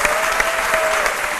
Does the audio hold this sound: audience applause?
yes